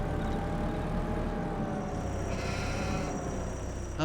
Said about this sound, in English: The sheep are already making fun of me.